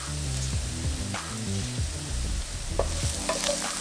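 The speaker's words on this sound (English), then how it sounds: "Now that the onions have become slightly caramelized, let's add in our garlic." Garlic added to slightly caramelized onions sautés in a pan, sizzling steadily up close while a spatula stirs and scrapes in irregular strokes.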